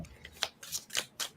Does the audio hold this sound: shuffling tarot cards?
yes